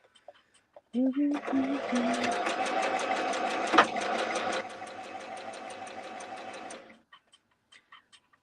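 A sewing machine stitching curtains, a steady rapid mechanical whirring that runs for about six seconds up close, slowing slightly partway, with a voice heard briefly at the start.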